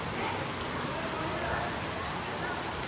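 Steady rain pours down at a Ganpati temple in the Konkan countryside, a dense, even hiss of drops on surfaces that continues unbroken and fairly close throughout.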